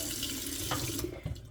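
Hot water running steadily from a kitchen tap, a continuous close rushing stream that holds evenly throughout with a slight change near the end.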